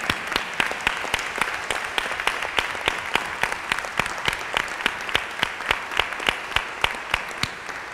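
Audience applauding early care and education providers at a child care advocacy forum, a steady stretch of loud, even clapping that holds without voices over it.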